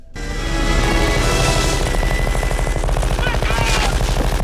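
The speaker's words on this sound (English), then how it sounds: "they spend the next 60 seconds blindly firing into the jungle" Film soldiers blindly spray gunfire into a jungle, a dense, continuous roar of overlapping automatic bursts and shots that stays loud and unbroken throughout, with a few faint shouts mixed into the din.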